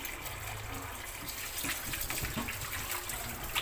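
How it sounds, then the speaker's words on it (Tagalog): Tap water runs steadily while beef for bulalo, a Filipino beef shank soup, is rinsed under the faucet, a constant gushing stream with light splashing. "Unang-una hugasan lang muna natin to."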